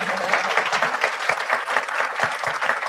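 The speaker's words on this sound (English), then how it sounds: "Can you two please stand up for one more round of applause for the two of you?" Audience at a live interview event applauding, a steady dense round of hand clapping with some louder individual claps, moderately close and continuous.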